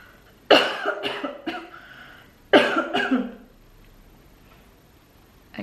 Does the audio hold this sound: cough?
yes